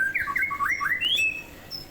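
White-rumped shama (murai batu) calling close by, a quick run of rising and falling whistled notes with a couple of harsher squawky phrases, clear and alone against a quiet background.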